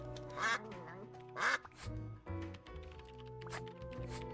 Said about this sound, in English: Huh, I didn't know you could quack.